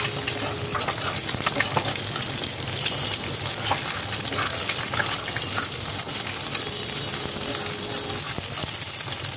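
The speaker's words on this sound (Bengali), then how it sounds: "এখন প্যানে দিয়ে দিচ্ছি লবণ দিয়ে ডিম দিয়ে দিলাম।" Eggs seasoned with salt sizzle steadily in a frying pan, a continuous loud hiss and crackle held evenly throughout with no voices.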